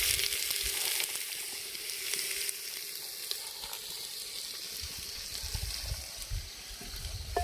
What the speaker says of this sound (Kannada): ಇದನ್ನು ಒಂದು ನಿಮಿಷ ಎಣ್ಣೆಯಲ್ಲಿ ಫ್ರೈ ಮಾಡ್ಕೊಳ್ಳೋಣ